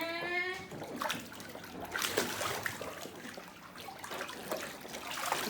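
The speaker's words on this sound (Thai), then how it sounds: "เติมน้ำไหมน้ำกระเด็นเยอะละ" Splashing water during lively outdoor water play, with repeated sloshes and spatters of varying loudness close by; a brief faint voice-like tone opens.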